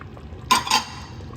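Spoon stirring a pot of beef stew with potatoes, carrots, onions and celery, a pair of brief close scraping clinks against the pot over a quiet simmer.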